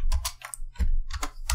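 Bursts of clicky keystrokes on a computer keyboard while writing code for a Unity horror game, arriving in quick uneven clusters with short pauses, close and fairly loud, with no talking.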